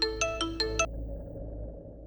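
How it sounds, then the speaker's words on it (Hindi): A phone ringtone sounds at midnight, a bright electronic melody of five quick rising and falling tones in under a second, then it stops and leaves a low room hum. "आधी रात में किसका फोन आ गया?"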